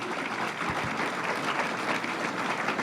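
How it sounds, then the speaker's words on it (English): Audience applause at the Great New York State Fair, a dense, steady round of clapping from a crowd that holds at full strength throughout. "Let's give a big round of applause"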